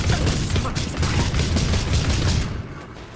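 Volleys of gunfire in the Warhammer 40k Rogue Trader video game, a rapid dense barrage of crackling shots and thuds that fades out near the end, no talk.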